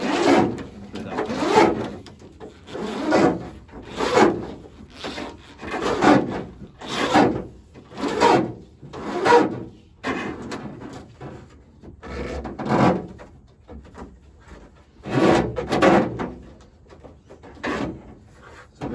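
Wiring cable being pulled and fed through the tub of an Isuzu D-Max / Holden Colorado ute during a dual battery install gives repeated rubbing, scraping pulls in an irregular rhythm, close and fairly loud.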